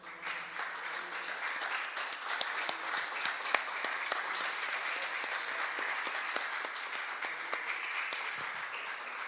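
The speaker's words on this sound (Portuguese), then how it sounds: "Aplauda ao Senhor, Ele é digno de todo louvor e adoração." A church congregation applauds during a worship service, a steady, dense wash of clapping from many hands sustained throughout at moderate distance, with only faint voices beneath.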